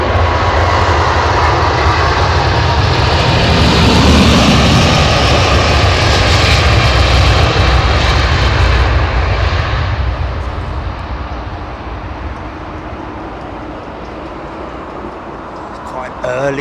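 An Airbus A350 XWB jet departs Heathrow with a loud, broad roar of engines that swells, holds and then slowly fades as it climbs away, while people talk nearby.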